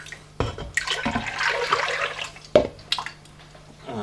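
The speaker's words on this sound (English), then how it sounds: "So just add the liquid to a pan" Cooking water from boiled vegetables is poured into a pan for nettle and wild garlic soup, giving close, splashy gushes in a few uneven bursts with short pauses between.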